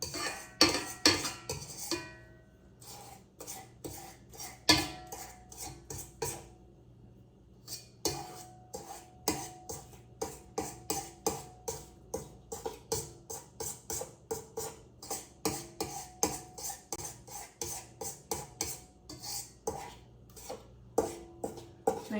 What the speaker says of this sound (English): we're gonna scrape down the sides of the bowl again